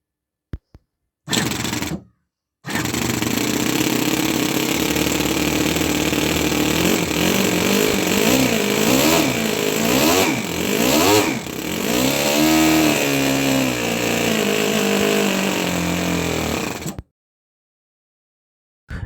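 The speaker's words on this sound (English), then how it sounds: "Now let's start the engine and check for any improvements." A small 7cc two-cylinder model engine with a 3D-printed exhaust sputters to life and runs steadily for about fifteen seconds, revving up and down in pitch before cutting off abruptly.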